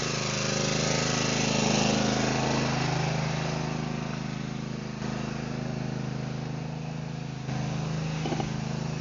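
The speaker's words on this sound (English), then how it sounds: "my son's deciding he's going to mow something" Lawn mower running steadily at a distance in a residential yard, a constant droning engine hum with slight swells in level, no voices over it.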